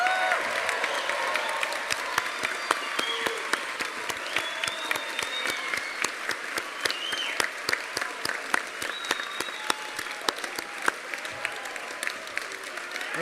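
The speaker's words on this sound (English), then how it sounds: "Big round of applause for yourselves." Graduates at the BIMM Institute Brighton graduation ceremony give themselves a long, steady round of applause, dense hall-wide clapping with scattered sharp individual claps and faint crowd voices underneath.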